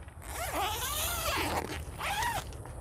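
A zipper on a clear plastic Club Car DS golf cart enclosure panel is pulled open in two long, close zipping strokes with a short pause between them.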